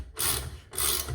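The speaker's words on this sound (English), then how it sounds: "I'm now just undoing the rotor," A socket wrench ratchets to undo a rotor that was fully rusted on, giving two bursts of close, loud, rasping mechanical clicks separated by a short pause.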